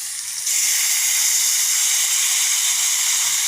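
Lote fish (Bombay duck) dropped into hot oil with fried potato, onion and cumin sets off a sudden loud, steady sizzle that starts half a second in and keeps hissing evenly to the end.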